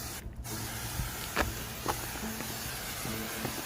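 A can of minus 45 degree refrigerant spray is aimed at cockroaches, giving faint, soft hissing bursts close by.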